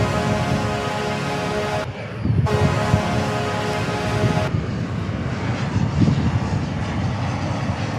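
A heavy jet airliner arriving from Frankfurt rumbles past at DFW Airport, a loud, steady roar of engine noise lasting throughout, with broadband rush swelling and shifting as it passes.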